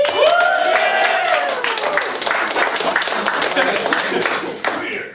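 Audience clapping at an improv comedy show, scattered claps mixed with crowd noise and a voice calling out near the start, fading toward the end.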